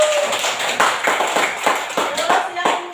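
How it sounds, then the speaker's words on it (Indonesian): A third-grade elementary classroom breaks into a round of hand clapping: sharp, fairly even claps repeat close by for about three seconds, with children's voices faintly underneath. "Ya, tepuk tangan."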